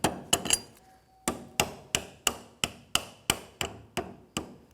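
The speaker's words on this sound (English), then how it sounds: "Just take a hammer." About a dozen sharp hammer taps on metal, tapping a rear shock absorber part into place on a Jeep Grand Cherokee, evenly spaced and fairly close, with a few quick double hits at the start.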